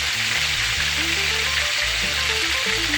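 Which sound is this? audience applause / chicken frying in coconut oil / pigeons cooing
chicken frying in coconut oil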